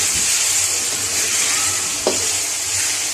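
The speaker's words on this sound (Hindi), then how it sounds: "चिकन को हमने अच्छी तरह से भून लिया" Chicken pieces frying in oil with garlic paste in a pan for a white karahi, giving a steady close sizzle and stirring throughout, with one brief scrape of a utensil midway.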